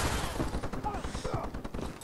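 Ray gun fire aimed at the player in the Advanced Warfare video game, a dense rapid stream of zapping bursts crackling continuously with game noise and faint voice in the background.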